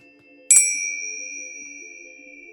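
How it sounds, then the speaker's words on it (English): A chime struck once in a sound bath setting, a bright metallic ding that rings out clearly and then sustains its pure tones, decaying slowly over a soft low hum. "Feel the vibration of the chime traveling through you, relaxing every muscle,"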